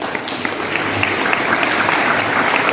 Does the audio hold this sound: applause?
yes